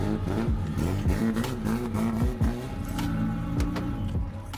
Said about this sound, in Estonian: Ja see on 3-liitrine Toyota mootor, 1000 hobujõudu ja võistlusauto mootor meil.